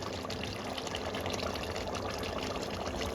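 Broth being poured into a cooking pot for kolai dal gosht, a steady continuous watery pouring sound, close and moderately loud throughout without pause.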